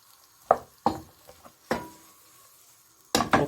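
Onion and bell pepper pieces cooking lightly in a pan for a homemade chicken tikka burger, heard as a few separate scraping stirs and soft sizzles, with a louder double stir at the end and quiet gaps between.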